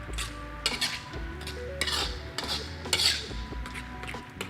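A spoon stirs Thai relish with fish sauce in a pan, giving irregular metallic clinks and scrapes against the pan over a low background hum, with no talking.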